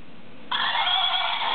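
A pink toy horse gives a bright electronic neigh when its ear is pinched, one sustained whinny starting abruptly and ringing on steadily, close and loud, with no talk over it.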